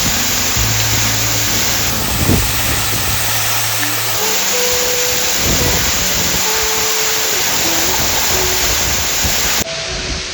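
Steady broadband rush of a flowing stream used for bathing in Arunachal Pradesh fills the whole stretch, loud and close, with no speech over it.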